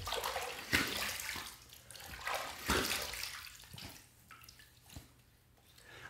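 A shaving razor is rinsed under running water between passes, with water splashing and gurgling in uneven bursts and several sharp taps as the razor strikes the sink.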